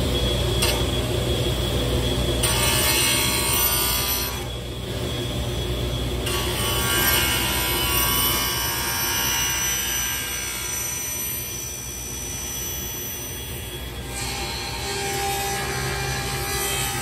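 Small handsaw cutting wood for interior paneling in a truck camper build, steady repeated rasping back-and-forth strokes, close and fairly loud, with no talking.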